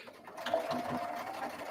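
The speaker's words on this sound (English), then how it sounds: "And now it's sewing again." A sewing machine stitches fabric in a short, soft, steady whirring run that starts after a brief quiet moment.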